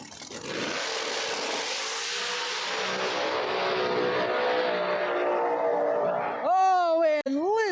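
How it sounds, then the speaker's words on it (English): No-prep drag race cars at Empire Dragway, New York, roar side by side down the strip in a long, loud, sustained engine blast that fades, then a commentator's voice takes over near the end. "That was a drag race, folks. Side by side all the way down through there"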